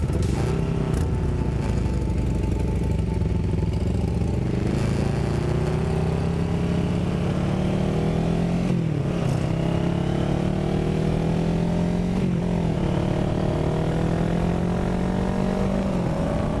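Motorcycles riding together through town on the way to dinner, engines droning steadily with rising and falling revs and gear changes, loud and close throughout with no talking.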